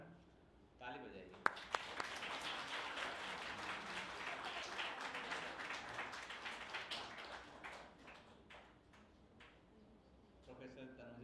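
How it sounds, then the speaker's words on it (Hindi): A lecture audience claps after a talk, applause swelling quickly and holding for several seconds, then thinning out as a voice begins speaking at the end. "ताली बजाइए"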